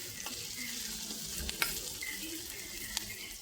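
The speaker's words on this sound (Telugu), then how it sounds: "పచ్చిమిర్చి వేగింది, అందుకని ఆనియన్స్ని వేసుకున్నాము. ఆనియన్స్ని కొద్దిగా వేగనివ్వాలండి." Green chillies and onions fry in a pan with a steady, soft sizzle, broken by a few sharp clicks of a spoon stirring, alone and at close range.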